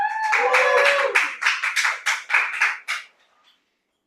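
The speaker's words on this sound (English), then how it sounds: "Please give a round of applause for Toastmaster Andika." Audience applause at a Toastmasters club meeting, rising as a voice finishes speaking, then continuing as a scattered run of hand claps for about two seconds before fading to silence.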